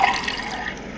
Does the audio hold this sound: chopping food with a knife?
no